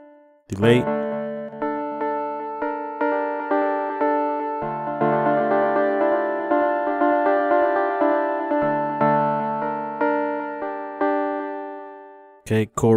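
Synth plugin patch with a delay effect, playing a run of plucked, decaying notes in a steady rhythm with repeating echoes, moderately loud and close, framed by brief clicks at the start and end.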